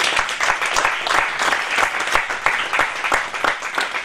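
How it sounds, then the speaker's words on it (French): Congregation applauding the Lord Jesus Christ during a church sermon, dense sustained clapping filling the room at steady loudness with a faint voice beneath. "Applaudissez le Seigneur Jésus-Christ."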